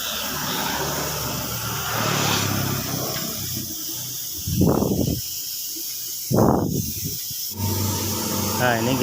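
A spray can or spray gun hisses in two short bursts while repainting a motorcycle's rear damper, each spray lasting under a second, with a voice talking around them.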